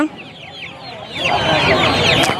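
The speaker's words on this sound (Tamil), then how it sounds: "இங்கே பார்த்தீங்கன்னா காடை கோழி" Several chickens cluck and squawk close by at the Pallavaram Friday market, a busy overlapping chatter that grows louder partway through.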